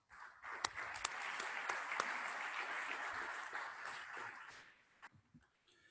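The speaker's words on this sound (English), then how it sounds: "Please help me give Jack a quick round of applause." An audience at an economic review event applauds, a dense round of clapping that swells quickly, holds steady for several seconds, then thins out and fades away.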